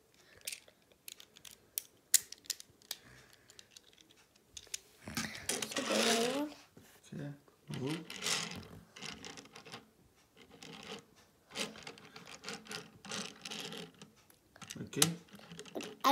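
Wings of a Mecard transforming toy car being folded, a series of small plastic clicks, scrapes and ratcheting snaps up close, irregular and faint, with a person talking intermittently.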